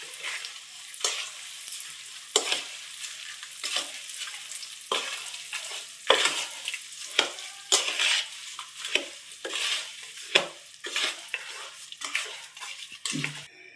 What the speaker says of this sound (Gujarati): હવે આપણે બધું મિક્સ કરી લેશું.